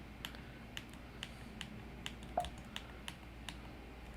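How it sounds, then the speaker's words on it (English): Keys on a computer keyboard are tapped in a steady run of light, crisp clicks about every half second, close by and fairly quiet over a low background hum. "I'm using the arrow keys to get what I did."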